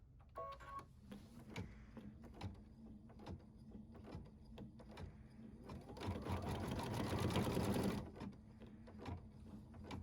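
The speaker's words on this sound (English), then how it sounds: "Thread the matte thread and embroider the eyelet placement line" Computerized embroidery machine sewing an eyelet placement line in matte thread, a steady mechanical whir with rapid ticking stitch pulses that swells louder and denser partway through before easing back.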